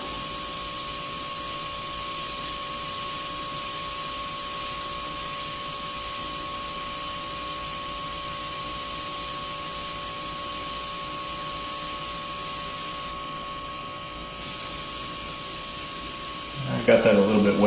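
An airbrush sprays paint onto metal rivets with a continuous close hiss that pauses for about a second near the end, followed by a little handling noise.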